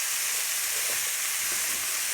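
Broccoli, carrot and pepper sauté in a hot pan, giving off a loud, steady, unbroken sizzle with faint stirring underneath.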